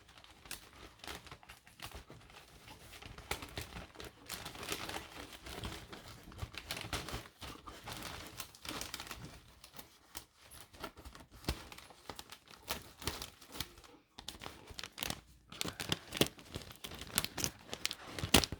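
Christmas gift wrapping paper printed with fir trees and deer is torn and crinkled close up, along with tape being pulled, in irregular bursts of ripping and rustling that continue throughout.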